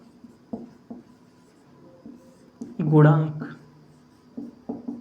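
Chalk or marker scrapes and taps on a board during a physics lesson on Ohm's law, soft intermittent strokes scattered through the clip while a teacher speaks over them.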